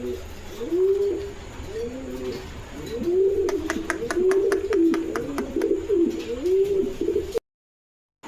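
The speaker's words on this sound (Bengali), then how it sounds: "এই যে দেখেন একজোড়া সিরাজি কবুতর" A pair of Sirazi pigeons coo in repeated rolling, throaty phrases, close and clear, with a burst of quick clicking taps during the middle calls before the sound cuts out abruptly.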